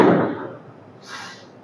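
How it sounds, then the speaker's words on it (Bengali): Metro train doors close at a narrow-platform station, giving one loud slam-like thud at the start that fades over about half a second, followed by a short faint hiss as they lock. "দরজাটি লক হলো"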